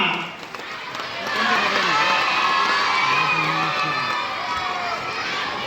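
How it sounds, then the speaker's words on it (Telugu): A crowd at a birthday celebration held during a social-service anniversary event claps and cheers, with children shouting and whooping in a loud, sustained swell of noise that rises after the first second. "అందరూ చప్పట్లు కొట్టి"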